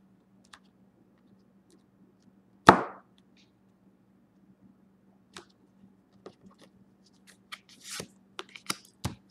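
Large tarot cards are handled and shuffled during a reading, with one sharp riffle, then a scatter of small clicks and card slaps over a quiet, steady low hum.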